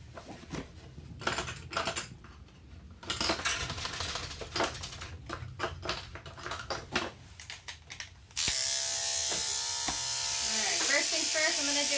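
Electric dog clippers with a wide guard comb trim a coat in a series of buzzing bursts. The clipping comes in short intermittent strokes over the first eight seconds, then one loud continuous run of the clipper holds to the end.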